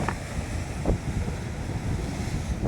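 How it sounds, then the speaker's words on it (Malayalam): Sea waves washing against a rocky shore during line fishing, a continuous rushing surf with gusting wind buffeting the microphone and no voices. "നല്ല തിരയുണ്ട് കാറ്റുണ്ട് കല്ലുണ്ട് തിരയുണ്ട്"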